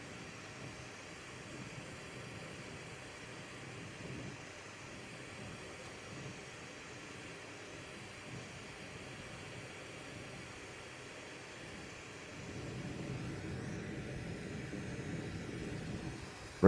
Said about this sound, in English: Sorry about the torch noise.